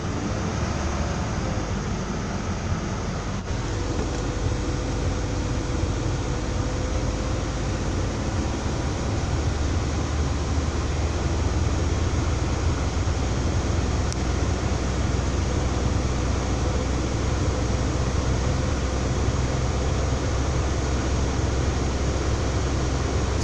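An Oldsmobile engine, recently fitted with a new water pump, thermostat and coolant, runs at high RPM around 2,000 to 2,800, producing a continuous loud broadband roar and hum that holds steady throughout, with no speech.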